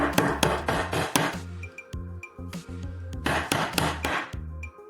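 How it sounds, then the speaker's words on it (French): A hammer strikes a small nail held by a plastic zip tie, several crisp close metallic knocks in irregular bursts with woody ringing and brief pauses between, no talking. "Serrez un collier de serrage autour du clou et tenez-le par le collier. Maintenant, vos doigts sont en sécurité et marteler est beaucoup plus facile."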